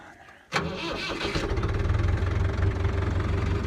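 A tractor engine cranks and catches after a brief quiet moment, then settles into a loud, rumbling, slightly knocking idle, ready to drive the shaft of a sunflower harvesting machine.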